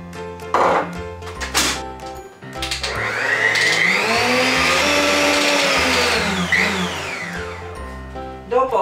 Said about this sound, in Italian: Inizio a frullare le uova.